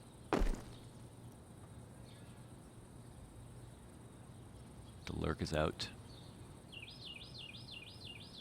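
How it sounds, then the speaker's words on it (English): Ambient crickets and occasional bird chirps on a quiet Counter-Strike map during a FaZe Clan vs. NiP match, faint and steady beneath a commentator's voice, with a couple of sharp game clicks and a wavering tone near the end. "So quiet you can hear the birds and the crickets"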